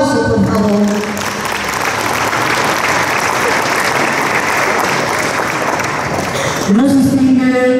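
Audience applause at a public event honoring local figures in Poxindeje, a dense sustained clapping that fills several seconds, with a speaking voice briefly audible at the start and end.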